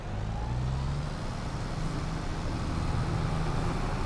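A Lamborghini drives in Farming Simulator 22, its engine a steady, continuous low hum with a smooth drone and no talking.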